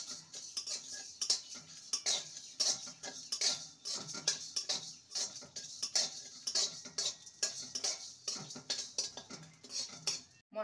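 Cumin and coriander seeds dry-roasting in a pan, heard as a busy patter of light rattling and scraping as the seeds are stirred with a metal utensil, fairly close and steady throughout, with no talking.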